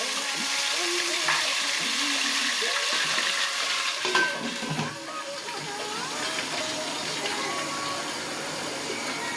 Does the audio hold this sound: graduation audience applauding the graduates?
no